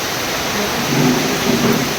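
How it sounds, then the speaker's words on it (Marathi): Heavy rain pours down in a dense, constant hiss while thunder rumbles low underneath, with no voices. "पाऊस पण भरपूर पडतो"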